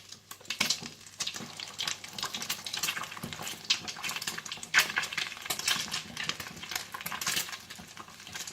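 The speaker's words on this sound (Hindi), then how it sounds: "इन कबाबों को अंडे में डिप करें और फ्राई करते जाएं" Beef and potato kebabs dipped in egg fry in hot oil, a steady crackling sizzle with occasional utensil clinks, close and moderately loud, no talk.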